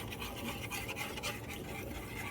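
A whisk stirs flax milk into a vegan garlic cream sauce in a pan, giving a faint, continuous scraping and swishing with soft rhythmic pulses of strokes, close and quiet with no talking.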